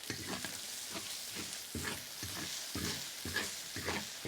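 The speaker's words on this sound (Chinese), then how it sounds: "来一勺豆瓣酱、香辣酱、辣椒面儿来点点啊，给它炒出红油来" Minced meat stir-fried in a wok with bean paste, chili paste and chili powder, a close, steady sizzle broken by rhythmic scraping strokes of the spatula roughly every half second, with no talking.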